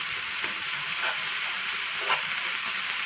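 A tomato and mushroom stuffing mixture sizzles steadily in a pan, a soft continuous frying hiss with a couple of faint stirring scrapes, no voices.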